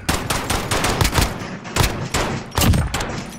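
Gunfire in Call of Duty Modern Warfare, with a pistol among the weapons: four loud, close bursts of rapid shots come in clusters, with brief gaps between them and no talk.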